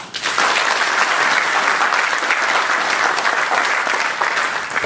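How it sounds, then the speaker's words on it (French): Loud, sustained applause from a forum audience fills the room, dense and steady for several seconds before tapering slightly at the end. "Je voudrais vraiment qu'on les applaudisse."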